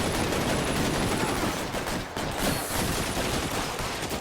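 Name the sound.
gunfire in the video game L.A. Noire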